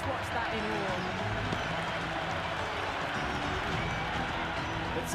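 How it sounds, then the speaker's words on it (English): A crowd buzzes steadily from the stands during a Cricket 26 India vs South Africa one-day match, a broad, dense roar with scattered claps that holds at an even level throughout. "There's a buzz, a real buzz coming from the stands."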